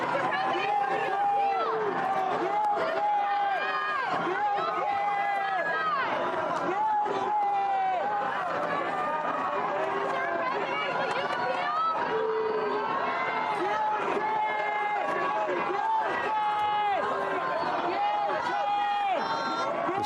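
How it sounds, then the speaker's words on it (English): A crowd outside former President Trump's residence chatters and calls out in a steady, lively hubbub with scattered shouts, heard at some distance throughout. "you can hear crowds"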